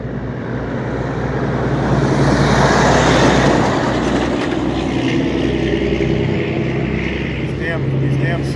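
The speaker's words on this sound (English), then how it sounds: "These damn semi trucks" Semi trucks roar past on a highway close by, a loud continuous rush of engine and tire noise that swells and holds steady, with no talk over it.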